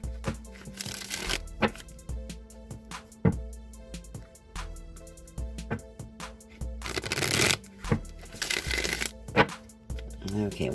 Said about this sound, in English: I'll just give these a few shuffles here.